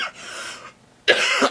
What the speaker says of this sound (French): Désolée de tousser.